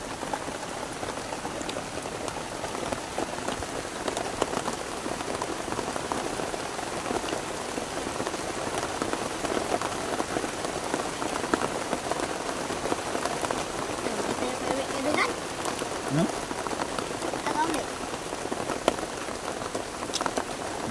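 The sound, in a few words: heavy rain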